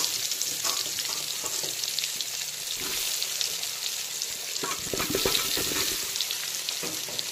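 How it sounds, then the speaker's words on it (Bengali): Turmeric-coated potatoes deep-frying in oil left from frying katla fish, in a kadai over full flame: a loud, dense, continuous sizzle up close, with stirring scrapes and bubbling bursts midway, no voices. "এখন আবার ওই মাছ ভাজার তেলে দিয়ে দিচ্ছি হলুদ মাখানো আলু। আলুগুলোকে হালকা বাদামি কালার করে ডুবো তেলে ভেজে নিতে হবে।"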